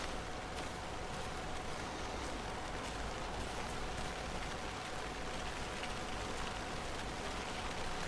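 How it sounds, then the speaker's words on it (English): Steady rain falls in a dense, even hiss of countless drops hitting surfaces, continuous and unbroken with no voices, sounding close and enveloping from start to finish. "I just love the sound of the rain"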